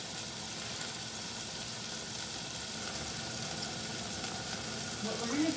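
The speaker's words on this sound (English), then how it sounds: "Our burgers are now cooking again." Burgers sizzle steadily in a hot pan, a constant close frying hiss that holds even throughout with a slight rise at the very end.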